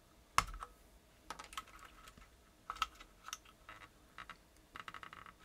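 Typing on a Tex Yoda II mechanical keyboard fitted with MX Silent Red switches: soft, muted keystrokes in irregular bursts, a couple of sharper clacks, close and quiet with no talking.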